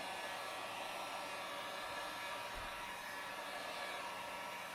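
Steady broadband whoosh of a heat tool blowing hot air onto heat transfer vinyl, continuous and fairly even throughout, with no talking.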